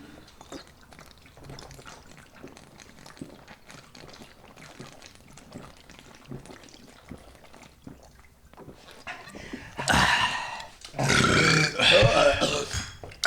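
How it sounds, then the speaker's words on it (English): Several men burp loudly one after another near the end after a stretch of quiet chatter, with a cluster of rough belches packed close together. "How do you guys burp so fast?"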